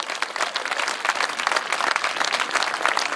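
A crowd at an air show with the Red Devils parachute display team claps and cheers in a dense, steady wash of applause that runs without pause throughout.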